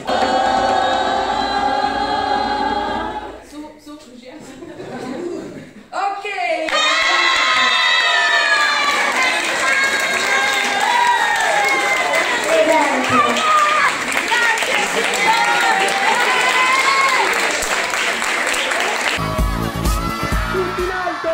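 A loud crowd of young voices cheers and shouts, with a brief lull before the roar swells again and scattered clapping joins in.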